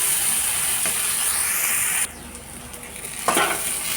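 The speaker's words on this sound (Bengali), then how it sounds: "আবার কিছুক্ষণ ওইগুলোকে আমি ভাজা করে নিই।" Food sizzles steadily in a hot pan for a couple of seconds, then the frying drops quieter as it is stirred, with a spoon scraping and clinking against the pan near the end.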